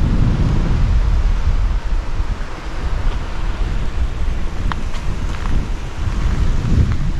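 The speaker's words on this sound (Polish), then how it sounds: "Nie wiem, co mi bardziej przeszkadza, czy wiatr, czy deszcz." Strong wind roars across an exposed waterfall valley at Mahon Falls in rain, a dense, steady buffeting rush with deep gusting rumble close on the microphone and no voices.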